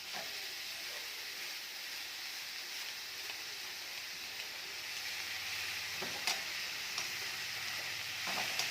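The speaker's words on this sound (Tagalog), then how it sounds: "Halo ko na itong bagoong alamang." Shrimp paste (bagoong alamang) sizzles and hisses steadily in a hot pan while being stirred, with occasional scraping clinks of the utensil against the pan.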